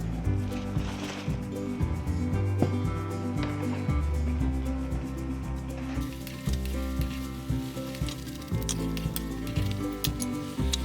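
Fried pork pieces tossed into thickened sweet and sour sauce in a pan for tangsuyuk, a steady loud sizzle with scraping and mixing clatter throughout, no voices.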